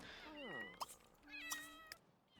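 Several cats meow in The Sims 3 game, with clear, close, rising and falling meows following one after another, and brief clicks between them.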